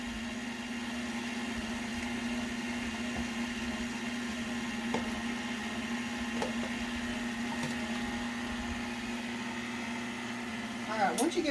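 An electric mixer beats lemon bar batter with a steady close motor drone and whine, a few faint clinks over it and a brief clatter at the end.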